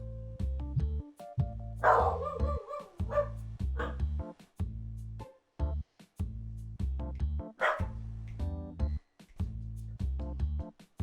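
A dog named Nova barks in repeated sharp bursts indoors, the barks coming close and loud throughout, with tonal whines mixed in around a few of them.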